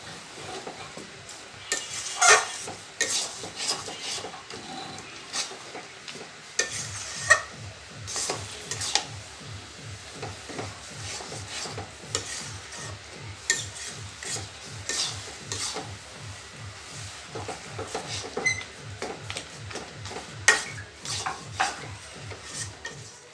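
Ripe tamarind pulp for pickle is stirred in a pot, a long run of rhythmic scraping and rubbing strokes, quiet at first then steady and rapid, close up with faint sizzling and no talking.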